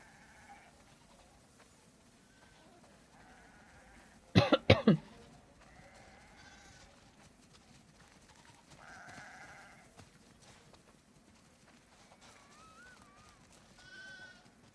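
Sheep bleat in The Last of Us Part II, with a sudden loud cluster of close bleats partway through and softer, scattered animal calls over a quiet farmyard ambience.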